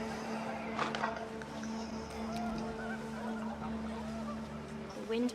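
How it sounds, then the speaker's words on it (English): Geese in a video game honk in scattered calls over a steady droning background, with a voice speaking faintly beneath. "panicked geese appeared and quickly went"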